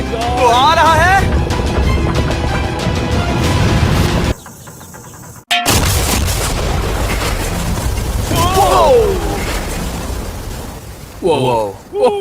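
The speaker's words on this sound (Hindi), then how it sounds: "वो धमाका बहुत ही विशाल होगा।" A huge blast from a mega sea bomb on an RC boat heads for a yacht, giving deep booming, bursting rumble and debris noise, and excited voices shout before and after the explosion.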